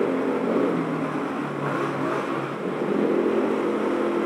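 A motorcycle engine revs loud and close during an informal street race, a sustained droning roar that rises and falls slightly without pause.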